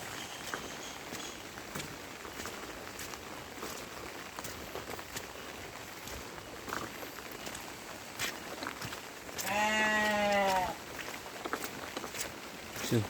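A sheep in a pen on a village farm gives a single loud, nasal bleat near the end of a stretch of quiet outdoor ambience with light shuffling.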